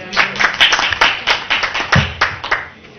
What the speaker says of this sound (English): We're applauding your entrance.